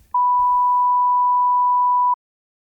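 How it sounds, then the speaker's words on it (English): A single pure steady tone sounds for about two seconds, clean and constant, then stops abruptly into silence. "Now let's compare it to the sine wave."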